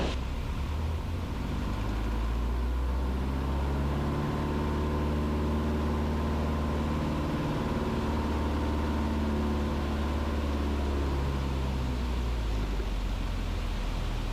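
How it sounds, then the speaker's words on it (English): Light aircraft piston engine being cleared during a simulated engine failure on descent, a steady loud drone with rising and falling harmonic tones as the power is run up, continuous for the whole stretch with no talk. "Just going to clear the engine again."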